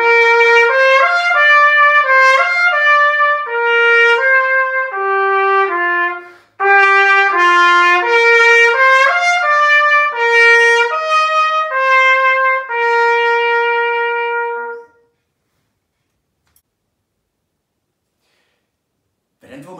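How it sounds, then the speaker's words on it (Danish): A trumpet plays a bright, loud melody of clear sustained notes in two phrases separated by a short breath, then falls silent for the last few seconds. "Det kan kun være en trompet"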